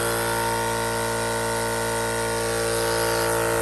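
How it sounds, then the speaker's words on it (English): Adventure Kings Thumper Max air compressor mounted in an 80 series Landcruiser, running with a loud, steady mechanical drone and whine that holds constant throughout, with no talking. "We have the compressor in, bolted up, and as you heard before,"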